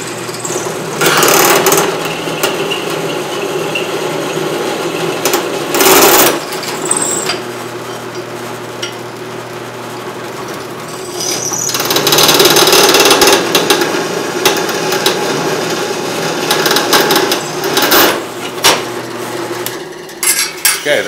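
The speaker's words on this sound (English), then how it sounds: "each one of these we're going to drill 4 holes" A power drill bores holes into steel horseshoes in a welding workshop, its motor whining and grinding in loud bursts with brief pauses between holes.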